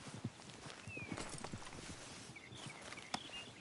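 Quiet clip-clop of horse hooves plodding at a walking pace in Red Dead Redemption 2, over ambient background noise, with a faint whinny-like sound partway through.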